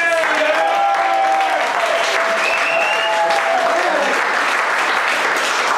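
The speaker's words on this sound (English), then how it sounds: "So give us one more round of applause." A sketch comedy show audience breaks into loud, sustained applause with scattered whoops and cheers, filling the room steadily from start to finish.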